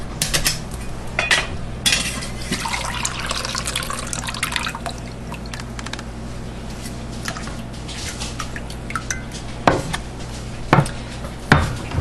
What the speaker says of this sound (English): let me get our cup of liquid out of these